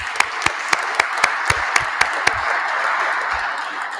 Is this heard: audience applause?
yes